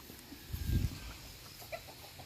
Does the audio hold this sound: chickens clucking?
yes